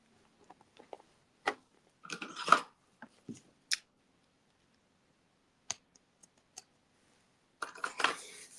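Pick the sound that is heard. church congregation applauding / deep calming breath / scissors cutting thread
scissors cutting thread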